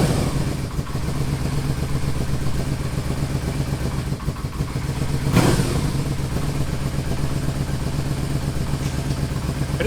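A crashed Yamaha Vmax motorcycle with a troublesome clutch is ridden, its engine thrumming in a continuous loud, rough drone with a brief louder surge partway through, heard close up.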